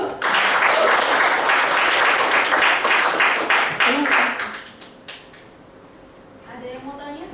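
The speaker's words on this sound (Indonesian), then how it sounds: "kita kasih aplaus dulu" An audience at a leadership talk breaks into applause for the speaker, dense clapping from many hands, loud and close, lasting about four seconds before fading out, with brief voices near the end.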